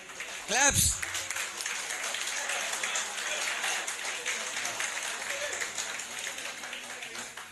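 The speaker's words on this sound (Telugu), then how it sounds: "క్లాప్స్." Audience applause at a school reunion celebration: a steady wash of many hands clapping that carries through the whole stretch, with a brief voice rising near the start.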